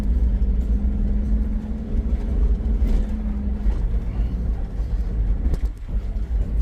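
A 4x4 vehicle's engine in third gear gives a loud, steady low rumble with a faint droning tone, jostled by bumps and rattles from rough ground, with no voice over it.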